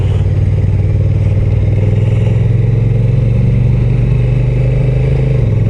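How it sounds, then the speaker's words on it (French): A Honda NT1100 DCT twin-cylinder motorcycle engine runs loud and close, holding steady high revs with a continuous throaty drone throughout. "Le moteur est déjà plus agréable."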